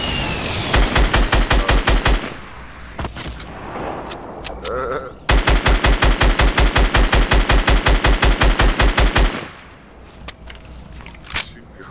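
Rapid automatic gunfire during a video game squad match, two long loud bursts of evenly spaced shots with a few scattered single shots between and after them.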